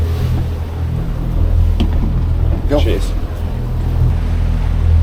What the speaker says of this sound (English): and run the engines